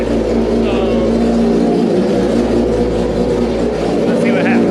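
A fully built 2022 Suzuki Hayabusa 1475cc motorcycle engine roars at sustained high revs on a dyno, a loud, dense, steady drone with a strong low hum, heard up close with no break.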